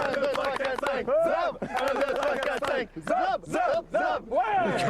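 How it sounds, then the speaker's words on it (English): A French team at a homemade aircraft flight challenge chants and cheers in unison, a loud rhythmic group cry rising and falling in repeated waves close by. "Some bizarre cheer going on there, the French team"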